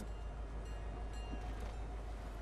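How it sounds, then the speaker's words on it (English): A train in the video game Fortnite rolls past as a steady, close rumble with a faint metallic rattle, holding at an even level throughout with no talking. "And the train's right here."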